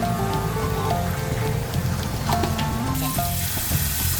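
Hilsa pieces fry in a pan with a dense, rain-like crackling sizzle, stirred gently now and then, while soft background music plays steadily underneath.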